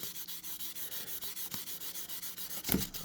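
Q-tip soaked in rubbing alcohol scrubbed over the contacts of a Super Nintendo cartridge, a steady close scratchy rubbing in quick repeated strokes, with a louder brushing burst near the end and no talk.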